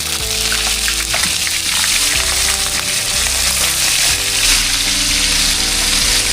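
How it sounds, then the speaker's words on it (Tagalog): Steady, loud sizzling and crackling of fish frying in hot oil in a pan, continuous throughout with no voices. "kasalukuyan tayo magpiprito ng ating isda"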